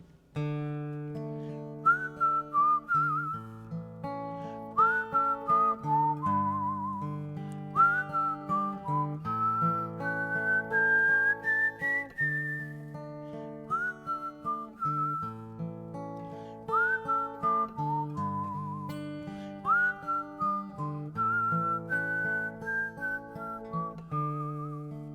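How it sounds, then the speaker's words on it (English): At a live music show, an audience whistles a melody together, steady and tuneful phrases repeating over about twenty-five seconds, clear and sustained with no talking or instruments standing out. "Guys, whistle along with this one."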